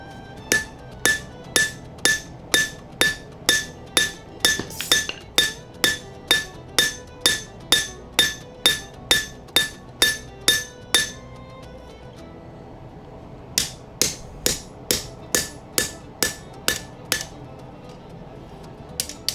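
Hammer blows ring on steel while forging the bevels of a Scottish dirk blade, a fast regular series of sharp metallic strikes, pausing briefly before resuming at the same pace.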